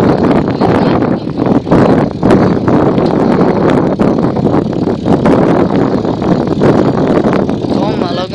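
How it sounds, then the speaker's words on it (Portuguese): Strong wind blasting across the microphone while riding a bicycle through a city, a loud continuous rumbling roar with scattered clatter and rattles throughout. "Tá ventando muito, tio."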